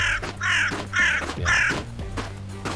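In the video game Northern Lights, a raven gives three loud, harsh caws in a row close by, over a low, steady background drone.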